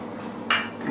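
A utensil scrapes and clinks against a bowl while vegan sponge cake batter of almond milk, oil and vanilla is stirred, one brief close metallic ring within a soft steady scrape.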